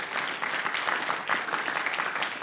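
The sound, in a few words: congregation applauding for Jesus in church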